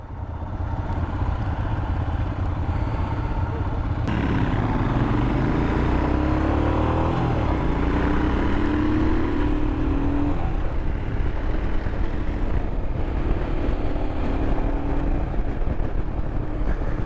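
A 2021 Royal Enfield Himalayan motorcycle crawls along in first gear on a street, its engine giving a steady low, loud drone with faint pitch shifts over about seventeen seconds, no voices.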